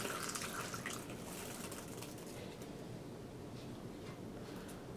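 Vinegar and salt rust-removing solution poured over rusty vise parts, a soft, steady wash of liquid that is faint and continuous, with no talk.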